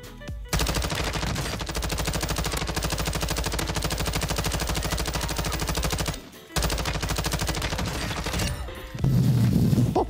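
Rapid, sustained minigun fire in the Warzone video game, a dense unbroken stream of shots with one short pause before resuming, loud and close.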